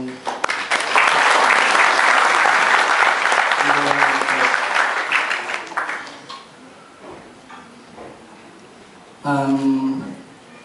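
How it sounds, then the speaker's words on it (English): Loud audience applause fills a hall at an architects' licensure oath-taking ceremony in Dubai, sustained for about six seconds before fading into murmuring, then a brief burst of voices near the end. "clap our hands"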